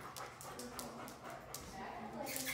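A dog whimpers and pants close by in a home, soft high whines and quick breaths mixed with people talking over it.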